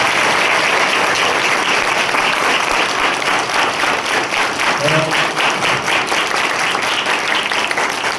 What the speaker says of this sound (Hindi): तो एक बार दोनों टीचर्स के लिए तालियां।